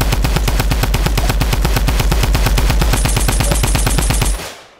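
Rapid machine-gun fire shooting at an aircraft in a video game, a loud continuous burst of evenly spaced shots lasting over four seconds before cutting off abruptly.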